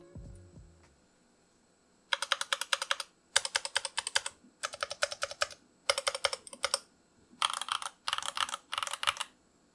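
A Moondrop Dash mechanical keyboard with pre-lubricated switches is typed on in six separate bursts of rapid, crisp key clacks, close and clear, separated by brief silent pauses, with no speech.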